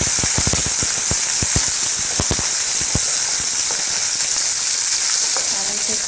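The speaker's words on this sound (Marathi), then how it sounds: "आता हे बघा मटार, मी हे मटार पण छान परतून घेते।" Green peas sautéing in hot oil in a pan for malai methi matar give a steady bright sizzle, punctuated by sharp spatters and crackles that ease off toward the end, with no talking.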